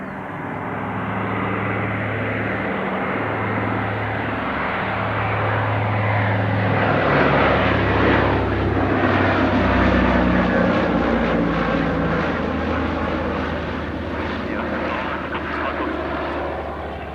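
A Consolidated PBY Catalina OA-10A flies past with its wheeled undercarriage down, its piston engines swelling from a steady drone to a loud, rough roar overhead and then easing off, with no voices over it.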